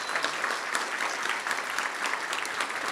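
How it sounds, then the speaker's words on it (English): Steady round of applause from an audience at a ribbon-cutting ceremony, dense and even throughout with no pauses, moderately distant. "So please give them a round of applause."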